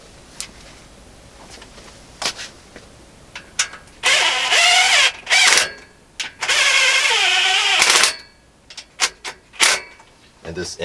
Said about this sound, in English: And this impact gun it's not going crazy right now. It takes nothing to actually make it ratchet